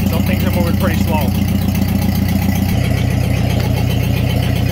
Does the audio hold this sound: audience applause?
no